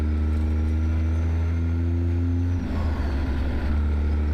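A heavy truck engine in American Truck Simulator drones steadily at a low, even pitch, then the tone breaks off into a rougher, rumbling burble as the engine is made to misbehave, loud and close with no voices.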